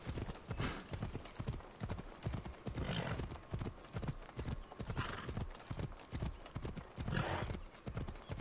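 Horse hooves beat in a steady, rhythmic gallop in the video game Assassin's Creed Odyssey, close and prominent and continuing throughout.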